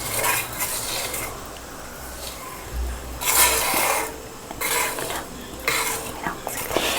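Herbal powders being stirred into oil for homemade hair oil, with a spoon scraping and swishing against the bowl in repeated short bursts of gritty stirring separated by brief pauses.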